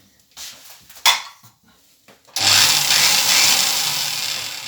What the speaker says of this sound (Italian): Allora il trapano lo lasciamo sempre acceso